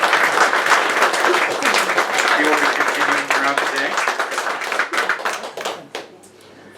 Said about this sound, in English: Please give a round of applause to Verona Ryan